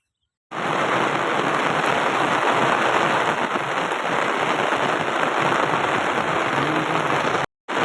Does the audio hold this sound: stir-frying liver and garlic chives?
no